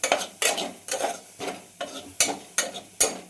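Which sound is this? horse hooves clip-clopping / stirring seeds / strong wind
stirring seeds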